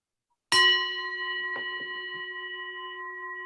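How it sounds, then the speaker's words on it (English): A single meditation bell is struck once and rings with a clear, bright tone that sustains and slowly fades over several seconds, heard close in a quiet room, with a few faint soft knocks underneath. "So we're going to start at the sound of the bell"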